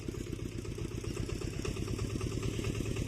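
A tractor engine chugs steadily in a low, rhythmic throb, running continuously at close range in a pumpkin field, with no talking.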